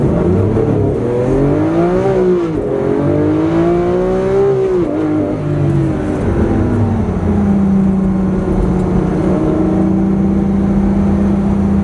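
Lamborghini Aventador engine pulling hard on the road, a loud, steady near drone with rising and falling pitch as revs climb and shift, no talking over it.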